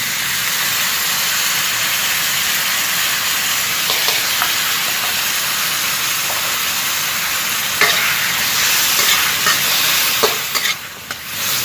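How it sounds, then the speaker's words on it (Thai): Onions frying in a pan for sweet and sour meatballs as tomato sauce is stirred in, a loud continuous hiss and sizzle with occasional scraping stirs and clinks near the end, and no speech. "พอหอมใหญ่เริ่มสุกก็ตามด้วยซอสมะเขือเทศเลยนะครับ"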